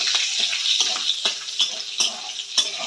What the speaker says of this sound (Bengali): একটু কালো জিরে ফোড়ন দেবো আর একটুখানি কাঁচা লঙ্কা ফোড়ন দেবো একটু নাড়িয়ে নাড়িয়ে ভেজে নেবো